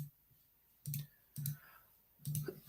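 A computer mouse clicks three times, short and fairly close, while choosing from a drop-down menu on a website, with quiet room tone between the clicks.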